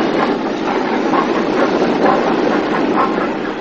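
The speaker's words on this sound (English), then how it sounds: "A northbound express has a Thompson-class A2 Pacific at the head, slowing for the severe curve on the main line" A Thompson-class A2 Pacific steam locomotive heads a northbound express on the main line, slowing for a severe curve; a loud, close, continuous rolling rumble of carriages with a faint rhythmic clatter.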